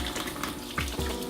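Hot water running steadily from a tap while hands are washed with soap, a continuous close splashing stream with small shifts as hands move under it.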